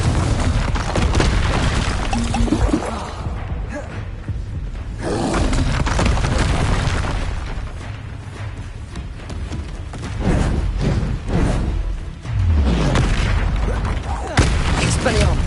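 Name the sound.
Confringo explosive spell blasts in Hogwarts Legacy video game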